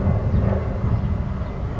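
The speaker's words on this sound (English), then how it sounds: "We have a very large airplane going overhead." A very large airplane passes overhead in a park, making a loud, broad, continuous low roar that rumbles steadily through the moment with no voices over it.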